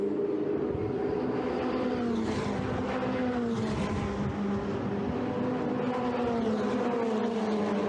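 Ferrari Challenge race cars on the final lap at Circuit Paul Ricard drone steadily, their engine notes rising and falling in a continuous loud roar with no clear pauses.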